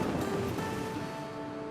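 Ocean waves wash steadily in the video game Anno 117, a soft continuous surf texture with faint tonal game sounds layered over it, fairly quiet and with no talking.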